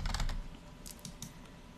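Computer keyboard typing, a quick burst of clicky keystrokes at the start followed by a few scattered, lighter taps, close and fairly quiet with no talking.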